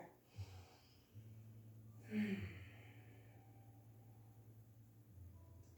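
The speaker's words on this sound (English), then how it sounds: "Let's take a nice, long, smooth breath together." One long, slow breath drawn during yoga pranayama practice: a soft, close inhale swelling to an airy peak, then easing out gently over quiet room tone.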